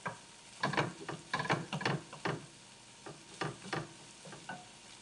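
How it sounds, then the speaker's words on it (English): Ground meat for a shepherd's pie sizzles quietly in a pan while a utensil breaks it up and stirs it, making irregular scraping and tapping clicks over a steady low fry. "Break the meat a little bit more."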